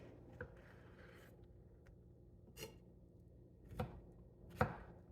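A knife chops fresh pineapple into small pieces on a board, giving a few quiet, spaced strikes that grow slightly sharper toward the end, in an otherwise hushed kitchen.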